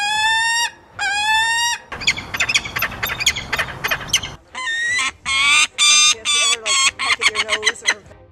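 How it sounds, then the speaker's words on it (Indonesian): A falcon gives a run of loud, harsh, repeated screeching calls in short bursts, close by and without talk. "Dengarkan suara falcon berikut ini."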